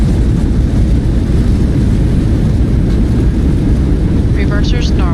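Airliner thrust reversers roar during the landing rollout in Microsoft Flight Simulator, a loud, steady broadband rush of engine noise with a voice speaking over it near the end.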